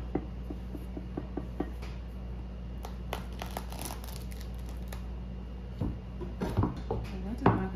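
A knife cuts into a tough pumpkin with scraping, crunching strokes. Some are steady and a few are louder near the end, all over a constant low background hum.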